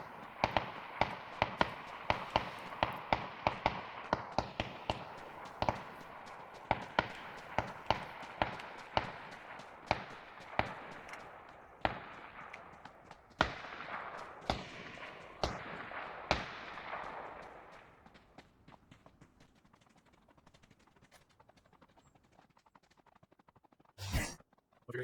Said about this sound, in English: see, I hear gunshots.